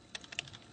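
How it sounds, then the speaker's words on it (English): A quick run of keystrokes on a computer keyboard, a few light, close clicks tapped in rapid succession over a quiet room. "now type in something random like"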